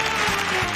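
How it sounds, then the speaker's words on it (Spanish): Sustained studio audience applause on a Spanish TV variety show, a dense, steady wash of many hands clapping at once, loud and unbroken throughout. "Un fuerte aplauso"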